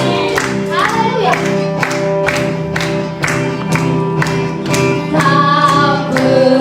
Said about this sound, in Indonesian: Berikan tepuk tangan kita.